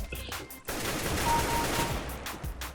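Rapid bursts of gunfire in Counter-Strike: Global Offensive, a dense, loud fusillade of repeated shots lasting a couple of seconds, with a brief lull before the firing resumes.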